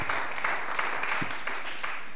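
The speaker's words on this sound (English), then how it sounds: "Round of applause." A dense, steady wash of applause from an audience, sustained and even throughout.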